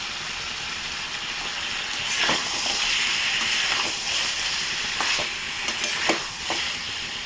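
Cauliflower, potato and paneer fry in a pan with a dense, steady sizzle and occasional stirring scrapes and knocks, close and fairly loud, with no one talking.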